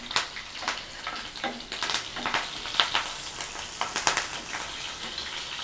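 Green and dried red chilies crackle and sizzle in hot oil with mustard seeds, a steady busy frying hiss broken by sharp popping bursts, close and alone with no talking.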